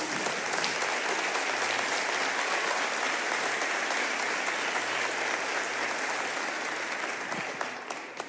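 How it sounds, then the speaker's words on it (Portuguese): A church congregation applauds steadily for several seconds after a sermon on defeating Goliath, a full, even roar of many hands clapping with no talk over it. "pode aplaudir"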